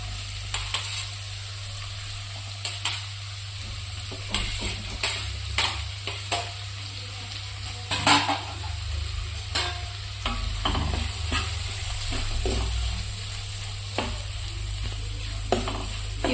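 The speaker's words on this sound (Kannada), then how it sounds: "ಈ ಉಳ್ಳಾಗಡ್ಡಿ ಎಲ್ಲ ಪೂರ್ತಿ ಹುರಿಯೋ ತನಕ ಗ್ಯಾಸ್ ಜೋರು ಇಟ್ಕೊಂಡ್ರಿ." Chopped onions and garlic fry on a high gas flame for a restaurant-style matar paneer. A constant sizzle runs throughout, broken by repeated scraping and clattering stirring strokes.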